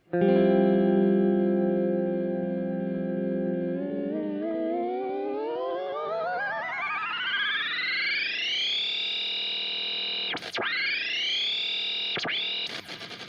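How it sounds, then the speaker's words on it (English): A steady, distorted electric guitar tone through an Erica Synths Black Stereo Delay in tape mode glides upward in a long warbling sweep, then wobbles and dips briefly as the delay time knob turns, with no voices. "if I turn a time knob, it does this pitch thing"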